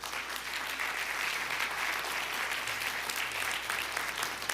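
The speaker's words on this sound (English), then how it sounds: "So I want these guys in blues to get a clap." Steady, sustained applause from the audience at a city commission meeting honoring police officers, a continuous wash of many hands clapping at moderate distance with no talking over it.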